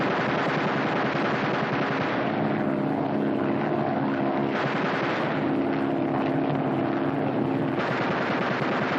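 A 1943 aerial machine gun fires rapid bursts over a loud, constant aircraft engine drone, the crackling fire swelling and easing in separate bursts.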